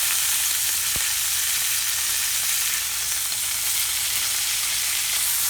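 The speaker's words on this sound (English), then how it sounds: "I'm going to hold it up like this and just let that sizzle that fat." Steady, loud sizzling of steak fat frying in a hot pan, continuous crackle with a single sharp tap near the start.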